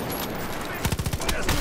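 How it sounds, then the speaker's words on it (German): Gunfire in Far Cry 5, a rapid burst of close, punchy shots in quick succession following a steadier background of game noise, with someone speaking around it. "Die schießen von beiden Seiten."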